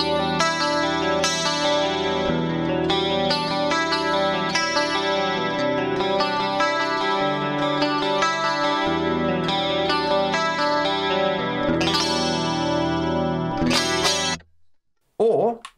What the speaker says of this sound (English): This analog stereo at stock settings sounds amazing to me.